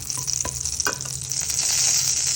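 Whole garam masala frying in hot oil for prawn malai curry, a continuous close sizzle with a few sharp pops and stirring clicks early on, growing slightly louder toward the end, no talk.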